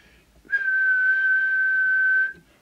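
Steady single whistle held for about two seconds into the microphone of a Rotel RVC220 UK 27/81 CB radio during transmitter alignment, a clear pure tone alone with no talk.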